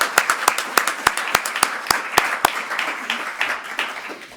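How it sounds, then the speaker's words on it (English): At an athletics banquet, a handful of distinct, sharp claps ring out at first, then swell into broader scattered applause from the seated audience that continues at a moderate, uneven level. "So give everybody a round of applause."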